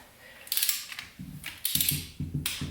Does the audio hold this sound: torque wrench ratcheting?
yes